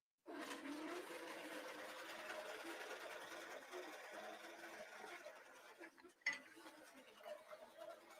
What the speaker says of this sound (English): So I'm just going to hit sew and let the design finish stitching.